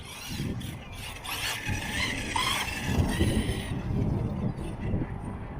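An Arrma Mojave Monster 8S RC desert truck drives over rough ground, its motor whining and its tires scraping and crunching in a continuous gritty rush.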